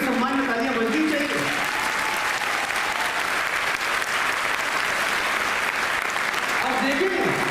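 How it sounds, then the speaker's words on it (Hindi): A live stage show audience in Varanasi breaks into sustained, dense applause that fills the whole stretch at steady loudness, with a voice briefly audible at the start and end. "अभिमन्यु के सम्मान में तालियां बजनी चाहिए।"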